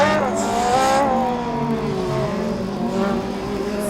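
A bright red Darmstadt Formula Student race car drives past the stands during an autocross run, its engine revving in rising and falling pitch sweeps as it accelerates and shifts, close and loud.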